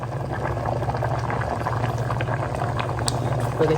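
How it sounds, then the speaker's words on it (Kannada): Masala curry boils in a pot, giving a steady, close bubbling and gurgling that runs unbroken throughout. "ಚೆನ್ನಾಗಿ ಕುದೀತಾ ಇದೆ"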